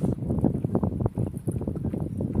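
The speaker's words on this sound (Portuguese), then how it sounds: "Tá ventando." Wind gusts roar across a fishing boat out on the water during a dourado fishing trip, a steady buffeting rumble of wind noise close on the microphone with no voices.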